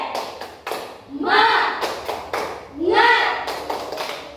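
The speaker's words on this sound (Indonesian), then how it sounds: "Kita akan bertepuk semangat." A school class does rhythmic 'tepuk semangat' cheer clapping in a maths teaching session, sharp claps in short patterned bursts alternating with loud group chanting voices.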